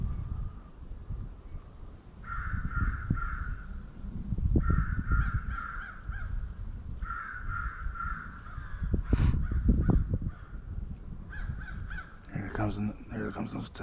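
Repeated crow caws in bursts, with a harsh cawing call answering in the distance, over steady wind and outdoor rumble during a crow hunt in open country, with a hawk nearby.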